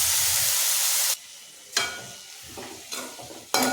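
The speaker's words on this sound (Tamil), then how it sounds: "இதை கொஞ்சம் நேரம் வதக்கி விட்டுக்குவோம்." Chopped banana flower sautéing and sizzling in hot oil in a pan for a stir-fry with drumstick leaves, with a steady hiss broken by several sharp bursts of stirring and scraping.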